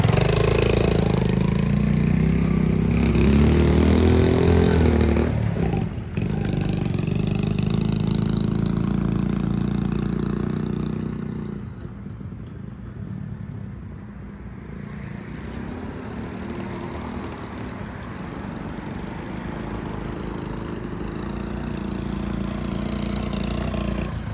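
A Honda CT70 K0 small motorcycle bought at auction, its engine running loud and close at first with a revving drone, then dropping to a quieter, steady idle that carries on to the end, with no talk.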